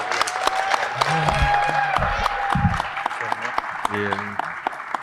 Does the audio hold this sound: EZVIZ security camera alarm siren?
no